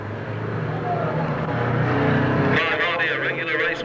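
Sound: crazy cars racing at Long Eaton stadium

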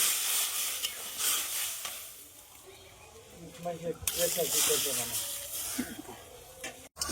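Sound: stirring tomatoes and adding water to a chicken stew pot

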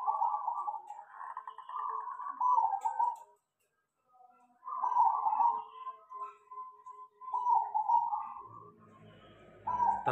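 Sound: zebra dove (perkutut) cooing

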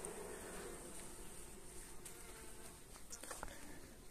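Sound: honey bees buzzing on hive frames

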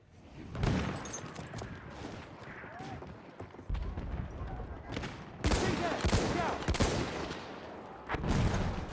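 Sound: gunfire from a weapon in the video game Battlefield 1

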